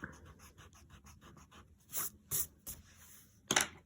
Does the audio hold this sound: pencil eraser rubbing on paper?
yes